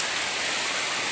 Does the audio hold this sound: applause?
no